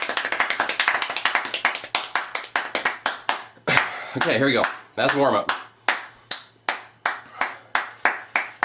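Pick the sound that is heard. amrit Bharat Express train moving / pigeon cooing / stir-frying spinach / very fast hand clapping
very fast hand clapping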